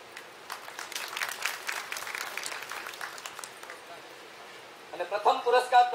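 An audience claps for farmers receiving awards at a Foundation Day celebration and Kisan Mela at ICAR-DGR, Junagadh, a dense, even round of applause that fades before a voice begins speaking.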